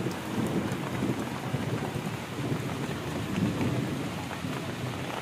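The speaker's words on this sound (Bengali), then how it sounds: "বলতে না বলতে বৃষ্টি শুরু হয়ে গেছে" Heavy rain pouring down on surfaces around a house during a thunderstorm, a dense steady roar with low rumbling thunder beneath, continuous throughout with no voices.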